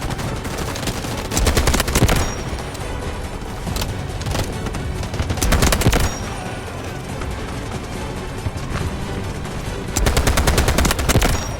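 SCAR rifle gunfire in the Delta Force Mobile shooter, loud rapid bursts of automatic shots in three heavy clusters separated by sparser single shots and steady background battle noise.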